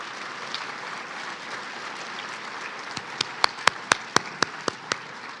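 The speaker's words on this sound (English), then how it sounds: "Let's give her another round of applause" An audience at a Martin Luther King Jr. birthday celebration gives a round of applause. A dense, even wash of clapping fills the room, and a few sharp, loud individual claps ring out near the end.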